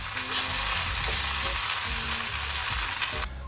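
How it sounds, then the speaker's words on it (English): Roast pork and spring onions fry in a pan for sweet and sour rice noodles, a steady close sizzle with some stirring that runs unbroken and cuts off at the end. "for the final 30 seconds of cooking, I'm gonna drop in my spring onions"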